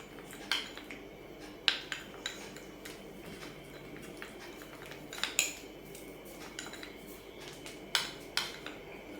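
A spoon mixes a beetroot soap mixture in a bowl, giving quiet, intermittent clinks and scrapes against the bowl over faint background hush.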